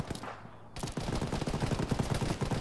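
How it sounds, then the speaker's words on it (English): Gunfire in the military video game Arma during a ShackTac team session, rapid bursts of automatic shots crackling densely after a short quieter lead-in, moderately distant, with no speech. "Most of the gunfire I'm hearing is on the west"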